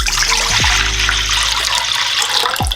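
Cold water pours into a mixing bowl in a loud, continuous splashing gush, close up, with no voices over it.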